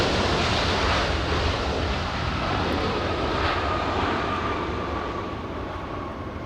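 A heavy Boeing 787 Dreamliner coming in to land on runway 24 right at Los Angeles airport gives a loud, steady broadband jet roar that stays near and constant, then eases off slightly toward the end, with no talk over it.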